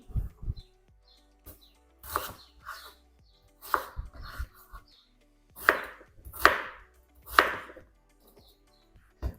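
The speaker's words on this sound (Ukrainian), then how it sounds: "картоплю кубиками." A knife thuds on a cutting board in irregular chops while cubing potatoes, several sharper and louder cuts clustered toward the end, close up with quiet pauses between.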